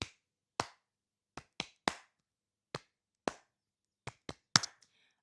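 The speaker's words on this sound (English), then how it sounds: "start clapping or tapping a rhythm" Sharp hand claps ring out alone in a quiet room, about a dozen crisp strikes in an uneven rhythmic pattern with short pauses between groups, like a teacher clapping a rhythm for students to copy.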